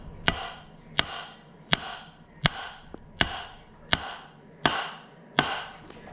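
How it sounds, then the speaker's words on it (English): Hammer beating silver flat for an arrowhead ring, eight sharp metallic strikes at a steady unhurried pace, each ringing briefly, close and clear with no talking. "we're going to beat this down with a hammer until it's flat"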